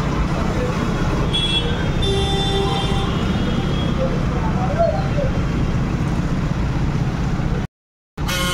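Road traffic stuck in a jam outside a house, with car horns tooting in short bursts over continuous engine and street noise, voices murmuring faintly, and a brief dropout near the end.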